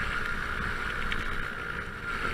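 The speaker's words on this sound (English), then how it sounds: "the joy of every Edinburgh scooter rider is cobbles" Scooter rolling over wet Edinburgh cobblestones, a steady close broadband rumble and whir with constant loudness throughout.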